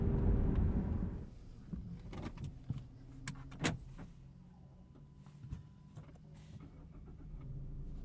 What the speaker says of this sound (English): We're gonna have to pull off and restart the vehicle.